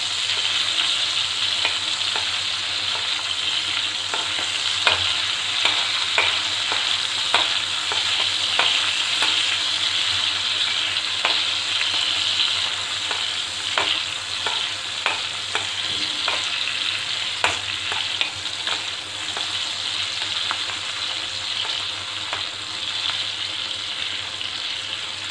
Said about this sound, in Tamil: இப்போ பார்த்தீங்கன்னா கருவாடு நல்லா எண்ணெயில் வதங்கிட்டு